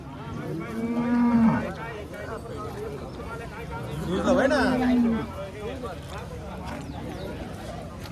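Cows mooing at a cattle market in Kopargaon, with two loud, drawn-out moos close by over a steady background of crowd babble and livestock noise.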